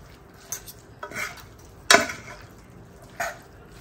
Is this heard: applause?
no